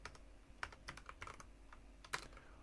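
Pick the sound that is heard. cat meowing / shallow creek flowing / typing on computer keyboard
typing on computer keyboard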